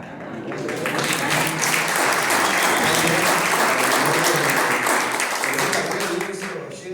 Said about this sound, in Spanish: Y le voy a pedir un aplauso porque van a tocar hoy en la Feria del Libro a las 20.